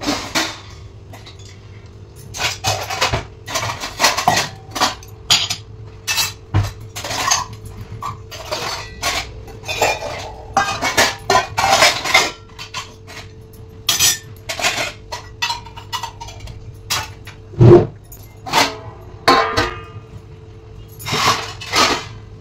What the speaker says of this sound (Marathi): जी भांडी आता जेवणासाठी वगैरे लागणार आहे की ती बाहेरच काढून ठेवते।